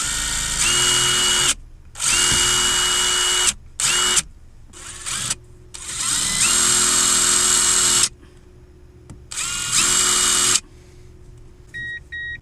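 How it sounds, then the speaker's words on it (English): A power drill bores into the key cylinder of a first-generation Toyota Tundra, whining loudly in several bursts that start and stop, with brief pauses and a few faint beeps near the end. "So let me see, I can drill this thing here."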